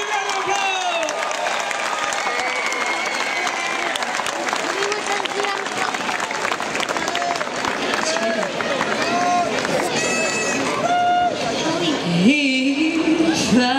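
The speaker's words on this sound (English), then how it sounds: "So please give them a big round of applause." An audience at the Jubilee show in a piazza breaks into sustained loud applause and cheering, a dense crowd clapping continuously with a voice speaking over it.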